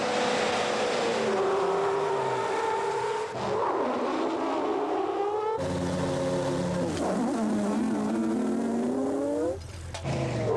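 A large-tired truck accelerates hard during a Top Truck Challenge brake test in 1998, its engine revving up through rising gear pulls in two loud close runs before easing off. No one talks.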